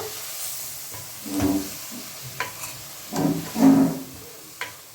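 Ground spice masala with salt and turmeric is sautéed for crab curry, a hissing sizzle with a few swells of stirring and scraping in the pan, close and alone without voices.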